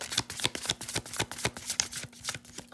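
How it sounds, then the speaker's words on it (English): A brand-new tarot and oracle card deck being shuffled by hand, a steady run of crisp riffling flutters and soft card slaps repeating every fraction of a second, close and clear with no talking. "shuffle it well."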